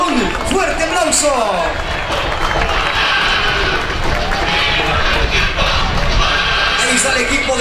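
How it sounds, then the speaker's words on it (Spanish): Stadium crowd noise as the Luis Ángel Firpo football team walks out at Estadio Sergio Torres Rivera, a dense roar of cheering, whistles and applause with a voice over a public address system. "Recibámoslo con un fuerte aplauso"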